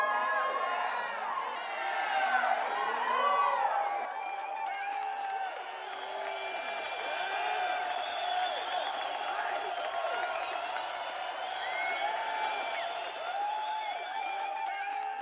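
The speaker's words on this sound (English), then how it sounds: "We use different loops of crowd noises to achieve that." Looping arena crowd cheering from a video game hype system, a busy layer of distant shouts, whoops and cheers that swells at the start and then settles into a steady, moderately loud roar.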